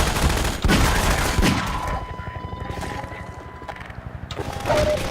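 Loud, repeated gunfire from a .357 Colt Python revolver in Half-Life 2 rings out as a close, dense volley of sharp reports over mechanical game noise. A lull follows, then another burst.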